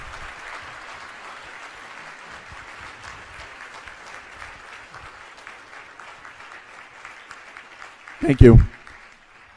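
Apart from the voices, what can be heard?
audience applause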